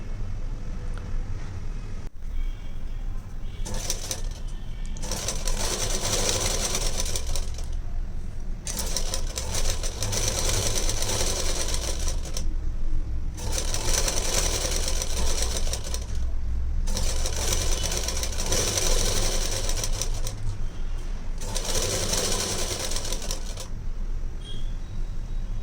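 A sewing machine stitches a blouse lining in repeated bursts of rapid whirring, several seconds each, separated by short pauses, close and steady.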